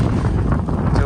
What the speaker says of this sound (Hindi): जबरदस्त हवा चल रही है, जबरदस्त।